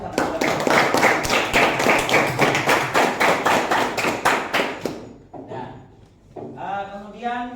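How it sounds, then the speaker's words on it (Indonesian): Group of people clapping for a school class group after its presentation, a dense run of claps for about five seconds that stops abruptly, followed by a voice speaking. "Mari kita tepuk tangan untuk kelompok 1"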